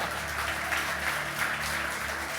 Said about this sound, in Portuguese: Aplauda aí, aplauda aí.